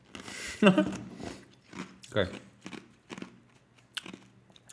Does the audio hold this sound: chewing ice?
yes